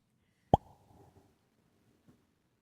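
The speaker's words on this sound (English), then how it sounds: "was just using the echo for the bubble pop." A single bubble pop sound effect made with an echo, one sharp close pop followed by a short reverberant tail that fades within about a second, with a faint second tap near the end.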